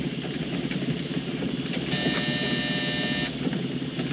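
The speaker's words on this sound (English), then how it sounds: "Hit that buzzer." A door buzzer sounds once, a steady electric buzz lasting over a second, over a low rumbling background hum in a 1950s crime drama.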